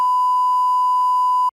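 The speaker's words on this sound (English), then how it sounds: "Beep, beep, beep, beep." Steady electronic beep tone, a single sustained pitch lasting about a second and a half with faint pulses, loud and isolated with no talking.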